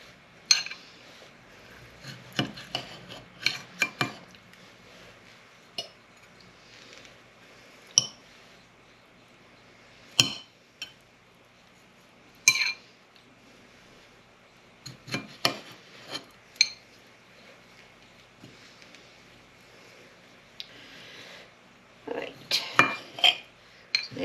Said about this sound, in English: I'm just going to fork and knife it and just slice it up